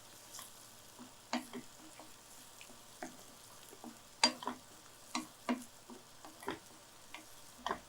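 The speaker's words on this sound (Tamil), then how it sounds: "இந்த வெங்காயம் வதங்க வதங்க அந்த எண்ணெயை வெளியில் தள்ளுது பாருங்கள்" Onions sauté in oil in a pan with a steady, quiet sizzle, broken by sharp crackles and spatula taps at irregular intervals, close by with no talking.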